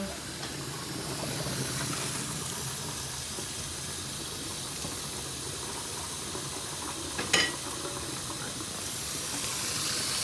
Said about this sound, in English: Drain your noodles.